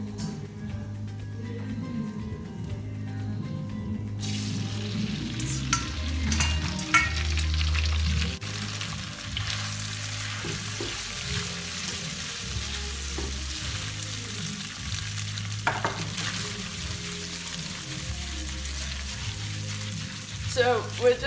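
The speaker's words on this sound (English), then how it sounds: "So we're just going to toss it around now, just to make sure that that flavor gets around or coats all the pasta in the pan" Pasta is tossed in a pan of burnt butter and sage, a steady sizzle with repeated scraping and stirring, plus a low intermittent hum underneath and a few louder clatters through the stretch.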